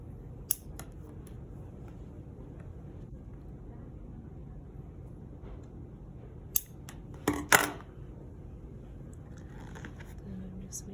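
Scissors trim soft wrist orthosis material in a few quiet, sparse snips, mostly clustered briefly near the end, against a low background with some talk.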